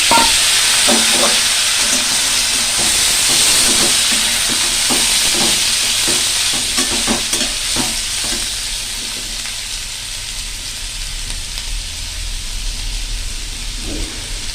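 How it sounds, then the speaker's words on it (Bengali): Potatoes sizzle and crackle in hot oil in a wok, a loud steady fry with bursts of spitting and stirring scrapes, no talking. "এই যে তেল গরম হয়ে গেছে আলু দিয়ে দিলাম"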